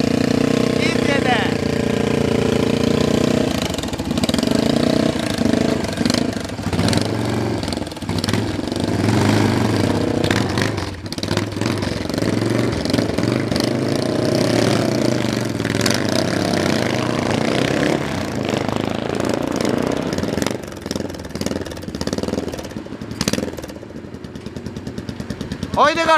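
A Yamaha SR500 chopper motorcycle engine rumbles steadily and loudly for the whole stretch at departure, holding a dense, continuous drone while voices talk over it.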